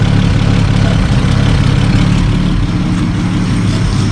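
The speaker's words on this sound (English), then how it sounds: "Gotta keep the engine running to keep it pumping." A 1949 Plymouth Special Deluxe, stored for twelve years, idles steadily with a loud, low, even rumble and no pauses or speech.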